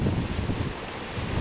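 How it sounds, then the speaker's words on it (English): Ocean waves roll and break on a busy Sonoma County beach, a continuous low rumbling wash mixed with wind buffeting the microphone, with no voices. "Some really nice waves today."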